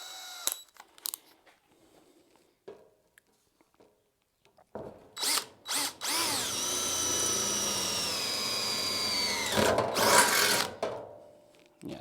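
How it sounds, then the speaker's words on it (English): DeWalt power drill with a small drill bit: a few short trigger bursts, then a sustained high whine for several seconds that ends in a louder scraping spurt, close up, after some quiet handling noises. "Now I'm going to use my trusty DeWalt"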